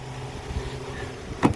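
A 2018 Ford Transit Custom van's engine idles with a low, steady hum, followed by a couple of short mechanical clicks at the end.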